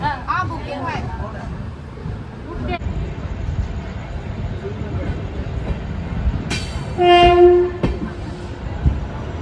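The 17411 Mahalaxmi Express with an LHB rake pulls into Thane station, wheels rumbling and clattering under a voice, with a loud sustained horn blast in the middle.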